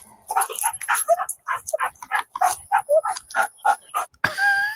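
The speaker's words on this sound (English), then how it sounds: "That dog's not even panting. He's just breathing that way because of the smell" A dog breathes heavily in a run of quick, rhythmic huffs, about a dozen close, loud breaths in steady succession outdoors, with no one speaking.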